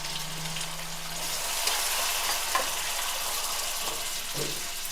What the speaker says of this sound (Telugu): ఇది కూడా కొంచెం దోరగా వేగనిద్దాం